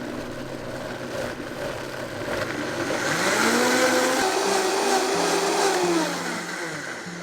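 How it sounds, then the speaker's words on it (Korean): A blender grinds spinach with water into a smooth purée for soup dough: a steady, loud whirring roar that climbs in pitch midway through as the blend thins out, then eases back toward the end. "믹서에 시금치 넣고 물 넣고 곱게 갈아주세요."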